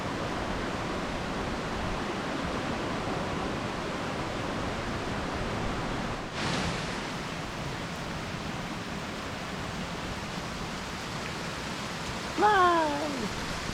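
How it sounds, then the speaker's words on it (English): Steady rain hisses continuously as an even, enveloping wash, with a brief voice rising near the end. "Looks like we got another rain delay. Here it comes."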